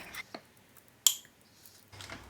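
A spoon stirring oats with yogurt and unsweetened vanilla almond milk in a bowl, a few sharp clinks and soft wet scrapes at irregular intervals, close and quiet.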